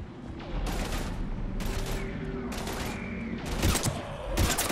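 Heavy gunfire in Mass Effect 3 during a fight against husks near the Normandy, a dense continuous crackle of shots under a busy battle mix with occasional louder bursts.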